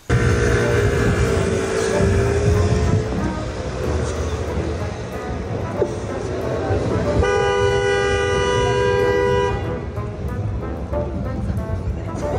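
Loud car horns honk repeatedly, with one long sustained blast near the end, over traffic noise and people talking nearby.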